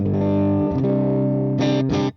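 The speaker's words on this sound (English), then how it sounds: "Start off with split coil sound." Electric guitar on a split-coil setting played through a UAFX Ruby amp pedal on its normal channel, ringing sustained chords with a slight effects shimmer, then two short bright strums before the sound cuts off.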